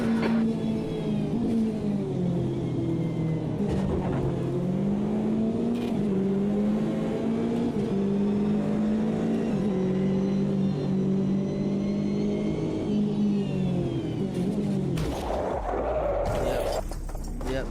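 Race car engines in the racing video game Automobilista 2 hum and rev continuously at a steady pitch, rising and falling slightly with throttle, before a brief rough burst of impact and scraping noise near the end.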